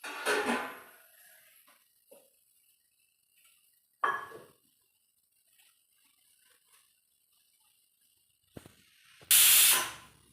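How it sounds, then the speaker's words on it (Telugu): Mixer grinder (mixie) grinding batter in a home kitchen, heard as three loud, harsh whirring bursts, each under a second long, with quiet stretches between them. "ఇది కూడా ఇంకోసారి మిక్సీకి వేసుకొని"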